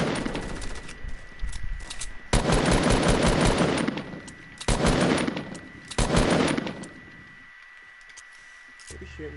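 Video game gunfire fills the scene in three long bursts of rapid automatic shots, loud and close, separated by quieter gaps with a player talking.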